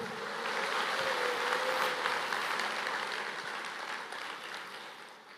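A church congregation applauds together, a dense wash of clapping that swells quickly, holds for a couple of seconds and then slowly fades away.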